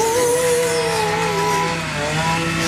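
A KXD 125 Chinese cross motorcycle engine idles steadily at close range, a loud continuous buzzing drone with a slight dip in pitch near the end, no talk over it.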